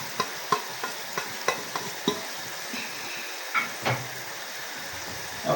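Onion goes into chicken frying in a pan: a low sizzle runs throughout, broken by several sharp spoon clacks and scrapes against the metal, close and fairly quiet, with no talking.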